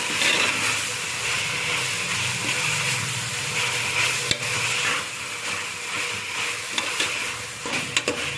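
A handful of mint leaves sizzles steadily in a hot pan while being stirred, making a continuous close frying hiss with occasional soft scrapes and clicks and no voices.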